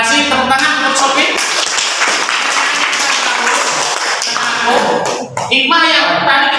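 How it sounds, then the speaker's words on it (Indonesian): Classroom applause for a student, a sustained burst of many hands clapping close by for several seconds, with voices mixed in near the end. "Tepuk tangan untuk Sofi."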